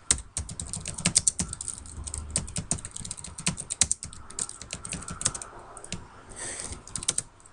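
Typing on a computer keyboard, rapid irregular clusters of close, crisp key clicks with brief pauses between bursts, alone and fairly quiet.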